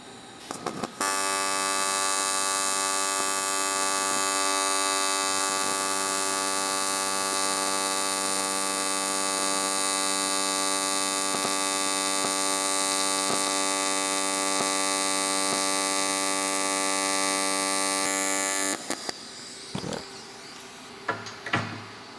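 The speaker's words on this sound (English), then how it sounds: "I have another piece here that I'm gonna weld up, and you should be able to immediately hear the difference" An AHP AlphaTIG 203Xi AC/DC TIG welder runs a weld, giving a loud, steady electrical buzzing hum for about eighteen seconds before cutting out, followed by a few faint clicks and clanks.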